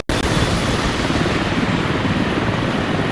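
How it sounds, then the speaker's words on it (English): Helicopters spinning up on their helipads in a military video game, a loud, dense rotor and engine roar that kicks in abruptly and holds steady throughout, with no talk over it. "the helicopters spin up on their helo pads"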